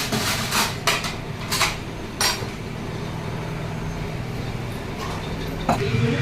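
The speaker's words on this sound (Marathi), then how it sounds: "त्यासाठी कांदा वगैरे कटिंग चालू आहे इकडे." Onions being cut in a busy restaurant kitchen preparing a large batch of misal, with sharp knife and utensil knocks in irregular bursts early and late over a steady background hum, no talking.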